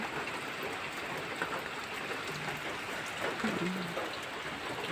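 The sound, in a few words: rain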